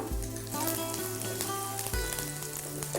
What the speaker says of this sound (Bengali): তেলটা গরম হয়ে গেছে ফার্স্টেই তেলের মধ্যে তেজপাতা দিলাম কুচনো পেঁয়াজ দিয়ে দিলাম